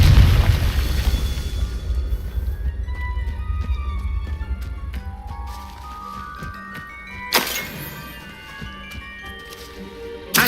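Confringo spell explosions in Hogwarts Legacy: a deep rumbling blast opens, fading into a ringing tail with chiming magical tones, then a sharp burst bangs out later and another hit lands at the very end.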